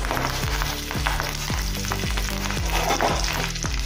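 Asafoetida and curry leaves sizzle loudly in a spoonful of hot oil in a pan, a steady dense crackle with repeated stirring scrapes throughout.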